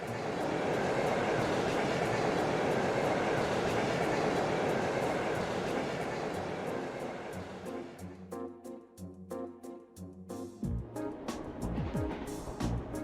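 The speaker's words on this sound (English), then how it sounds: "He's on the train again, though." A steady rumbling train ride in Trails of Cold Steel, loud and continuous, later giving way to rhythmic clattering and mechanical thumps.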